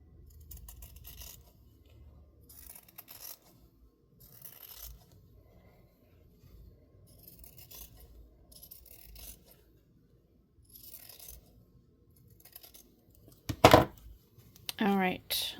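Scissors cut through the cover of a Little Golden Book for a junk journal in short bursts of close, scratchy snipping and rasping, separated by quiet gaps, with talking near the end.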